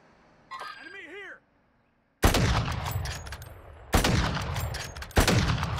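Gunfire in a first-person shooter game: three loud, sharp bursts of rapid shots at about two, four and five seconds, each trailing off, preceded by brief voice-like chatter and a short silence.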